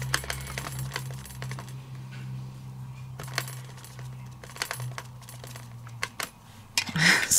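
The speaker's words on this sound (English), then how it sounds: "Like a jingling sound there." Small metallic jingles and clinks rise from a stamp-and-die crafting session with a Diamond Press set, scattered light taps over a quiet background, ending in a brighter cluster of jangling.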